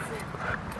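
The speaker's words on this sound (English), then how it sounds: "Made the barking become more." A dog barks and whimpers close by, with a person speaking over it.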